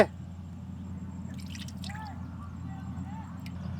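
Cooking oil is poured into a pan for a Karnataka chicken enne khara, giving a few faint, soft drips and glugs over a low background hum. The sound is short and quiet.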